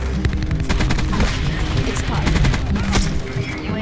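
Peacekeeper gun fire in Black Ops 4: loud, dense rapid bursts of gunshots almost without pause, with busy game-fight noise and a voice talking over it.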